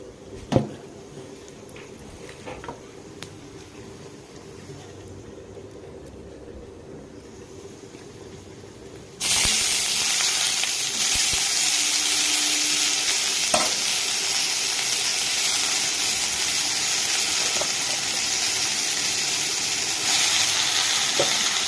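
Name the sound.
chopped khosda greens frying in a pan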